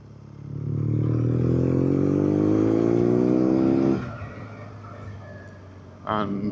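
A BMW R nineT Urban GS motorcycle accelerates, its engine note climbing steadily through the gears, loud and close for about four seconds, then easing to a lower rumble with brief wind noise.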